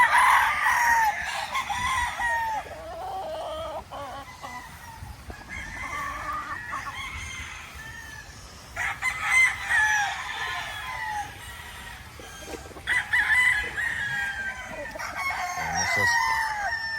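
Several chickens cluck and a rooster crows in bursts nearby on a gamefowl farm, with faint background ambience and occasional rustling.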